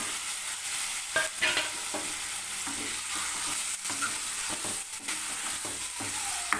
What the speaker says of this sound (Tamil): தக்காளியும் கொஞ்ச நேரம் வதங்கட்டும்